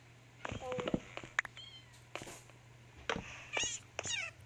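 A cat in the Minecraft video game meows several times in short, rising and falling cries spread across the moment, clear and close over a low steady background hum.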